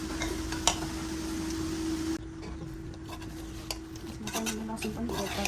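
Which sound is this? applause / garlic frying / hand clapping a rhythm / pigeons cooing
garlic frying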